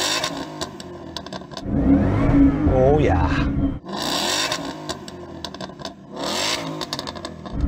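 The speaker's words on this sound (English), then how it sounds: "So I'm going to rev up this Ford." A Ford Mustang engine is revved hard at a standstill before a drag race, giving loud, surging roars that rise and fall in two bursts while someone talks over it.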